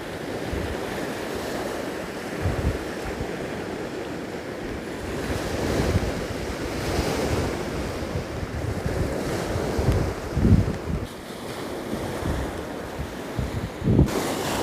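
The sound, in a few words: ocean waves on the shore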